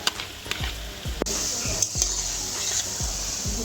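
Ripe mango fritters sizzle steadily in hot oil, with a spoon repeatedly stirring and scraping the pan in a slow rhythm, close up and moderately loud.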